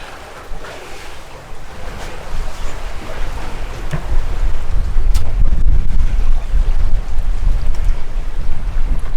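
A sailing catamaran runs downwind under genoa on the Sea of Abaco in the Bahamas, with steady rushing waves against the hull and heavy wind buffeting the microphone, growing louder partway through.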